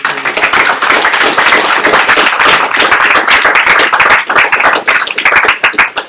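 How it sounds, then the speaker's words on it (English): A room full of people gives teachers a round of applause at a lecture event, dense and loud hand clapping that carries on without a break for about six seconds. "We'll give a round of applause to all our teachers."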